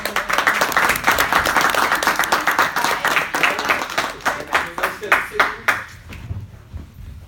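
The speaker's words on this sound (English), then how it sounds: "So let's give everybody a round of applause." Applause from an audience at an anti-bullying youth board event: a fairly sparse patter of hand claps that rises and eases in waves, thinning out and fading toward the end.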